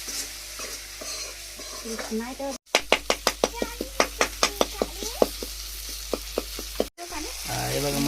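Fish fry in hand-ground masala on a wood-fired stove, a steady sizzle broken by a quick run of sharp knocks from stirring in the pan, with faint voices at the edges.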